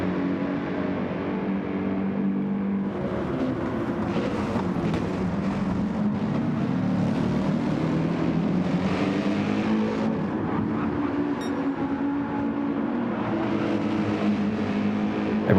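Race car engines in Gran Turismo 7 during a BTCC replica league race at Laguna Seca's corkscrew, several cars droning and revving together at a steady, sustained level with no one talking.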